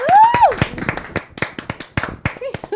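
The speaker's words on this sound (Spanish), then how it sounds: "un fuerte aplauso para él." A studio audience claps for a guest in a Mickey Mouse costume on a Spanish-language evening talk show. The quick, close handclaps run for a few seconds while a host keeps talking over them.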